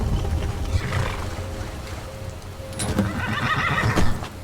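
A horse neighs and whinnies while being ridden in the video game Skyrim VR, with a bright cry partway through and a longer whinny near the end over steady game ambience and hoof sounds.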